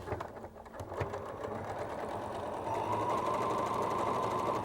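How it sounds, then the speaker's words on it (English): A sewing machine runs steadily, stitching a quilt seam for a twirling star block made with a template. Its even mechanical whir starts softer, then grows louder and continues without a break. No one speaks. "pull out the pin and continue stitching"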